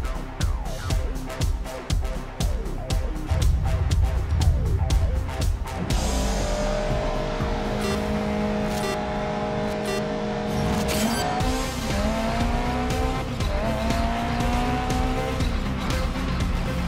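Race car engine in GRID Legends, a rapid pulsing roar giving way to sustained engine drone and rising, shifting tire squeals, loud and continuous with no talk.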